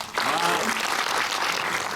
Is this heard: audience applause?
yes